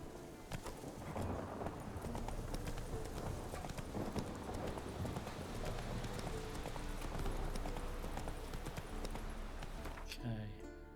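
Roach the horse gallops in The Witcher 3, hooves clip-clopping in a steady rapid rhythm with loud, dense game ambience, a voice talking over it, then the hoofbeats drop away near the end.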